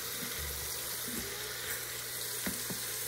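Meat browns in a hot pan with a steady, close frying sizzle, joined by a few faint clinks and light scrapes, with no voices.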